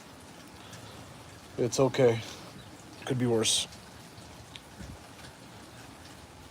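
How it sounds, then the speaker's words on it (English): Pouring rain hisses steadily outdoors on a cold day while someone speaks briefly over it. "Yeah, it is raining, that's for sure."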